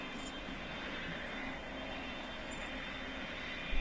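Steady, droning aircraft engine from a plane in the Roblox flight game PTFS, throttled back to idle for descent, a constant even hum with no talking.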